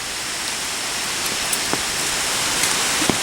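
Steady rain pours down, a dense even hiss with scattered louder drops ticking nearby.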